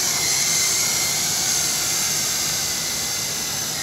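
WL Q212 FPV quadcopter motors spin up under throttle with a steady, loud high-pitched whine that holds evenly throughout and stands alone without any talk.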